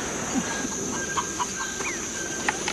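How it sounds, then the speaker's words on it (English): Chickens cluck in a 1998 war film scene, scattered short clucks and squawks, moderately near, over a steady background hiss with no talk. "Yo, Eddie, be careful in case those chickens stage a counterattack."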